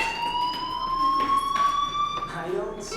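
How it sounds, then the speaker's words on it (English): A steady electronic fire alarm tone in a video game rings continuously, high and piercing, with a harmonic above it, while muffled voices and background noise carry on underneath. "do you hear that fire alarm?"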